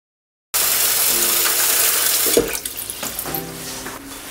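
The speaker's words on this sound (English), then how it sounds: "Now we just gotta wait for the sink to fill up." A tap runs into a sink, starting abruptly as a loud, steady gush of water, then turning to uneven splashing and gurgling as the sink fills.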